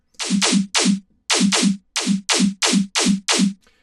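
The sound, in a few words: clap snare drum sample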